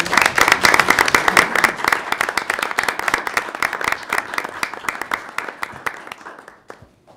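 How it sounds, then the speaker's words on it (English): Loud applause from a crowd at a school committee meeting, dense clapping that gradually thins out and fades to a few scattered claps. "Give them a round of applause."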